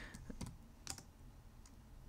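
Light clicking keystrokes on a computer keyboard, a few quick irregular taps close by, quiet and brief with no talking.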